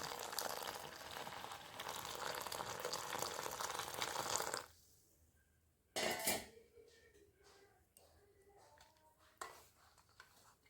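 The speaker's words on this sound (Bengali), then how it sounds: "এবার আমি আস্তে আস্তে জল অ্যাড করবো" Water is poured steadily into a boiled kasundi mustard mixture for several seconds with a loud, splashing stream, then stops, leaving quieter clinks of a utensil against the pot and brief stirring.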